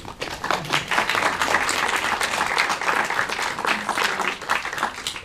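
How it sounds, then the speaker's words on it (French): Audience applause at a 2013 movie premiere of GFP Bunny before a question-and-answer session, a full, dense burst of many clapping hands that holds steadily throughout, fairly loud and close. "On applaudit."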